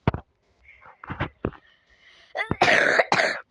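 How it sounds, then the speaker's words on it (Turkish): Several short bursts and a harsh, throaty cough from a sick person close to the mic, ending in two loud rough coughs in quick succession, with no talking. "Öksürüm geliyor kesin."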